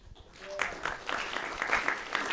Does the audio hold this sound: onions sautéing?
no